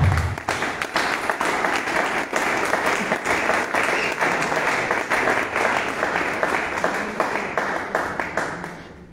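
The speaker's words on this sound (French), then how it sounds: "Sous vos applaudissements" Conference audience breaks into sustained applause, a dense wash of clapping that holds steady for several seconds before thinning out at the end.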